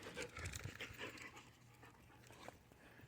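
Two excited, hyper dogs pant rapidly and steadily close by, with faint whimpers mixed into the quick breathing and no talking.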